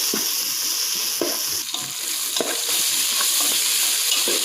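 Coriander and mint fry loudly in a pan for chicken curry, a close steady sizzle broken by repeated scraping stirs of a spoon, no voices.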